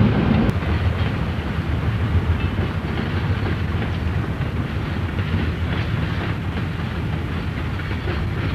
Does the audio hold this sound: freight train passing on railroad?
yes